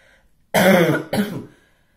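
A single loud cough, rough and throaty, breaks into two close bursts with quiet before and after.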